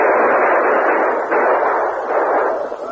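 Sustained gunfire in a battle with Apaches, a dense, steady roar of massed shots that keeps up at high level throughout, with no voices over it.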